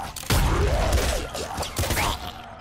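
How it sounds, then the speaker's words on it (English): Mega explosions in the video game Nuclear Throne go off as a dense, loud barrage of booming blasts and crackling bursts, layered and continuous over a couple of seconds. "Fortunately, we have like the mega explosions, which is very satisfying."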